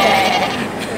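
A crowd of people at an open house imitate goat bleating together in a loud, dense chorus of voices, with no real animal present.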